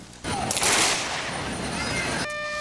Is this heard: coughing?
no